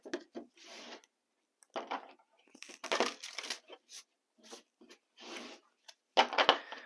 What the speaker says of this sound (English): But let's do some shuffling.